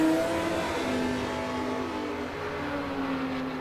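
Supercharged Monaro and Falcon drag cars at a Supercharged Shootout, engines roaring loud and steady at the strip, with a rising, sustained drone and no speech.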